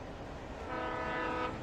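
Train in the video game Alan Wake Remastered, a rumbling pass that swells into a long tonal horn blast midway, loud and near, with no voices.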